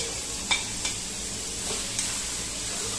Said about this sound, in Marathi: तर मी आता याच्यामध्ये टोमॅटो पण फ्रायमध्येच टाकणार आहे.